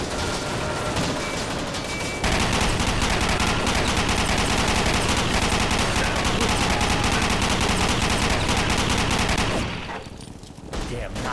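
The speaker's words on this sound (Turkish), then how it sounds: "oto silahla savuşturduk gelenlerin bir kısmını" Automatic weapons fire in the Commandos Strike Force World War II shooter, a loud, dense, continuous fusillade of rapid shots hammering for several seconds before easing off near the end.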